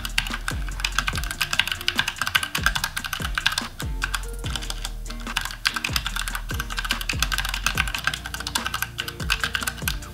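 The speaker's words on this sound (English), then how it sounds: "1 minute test, start typing." Fast, continuous typing on a computer keyboard during a one-minute typing test: a loud, close, steady stream of keystrokes with no pauses and no voices.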